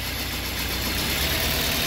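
A Toyota Corolla engine with one ignition coil disconnected idles roughly, producing a steady, close, uneven mechanical rumble with a faint irregular knock and no voices.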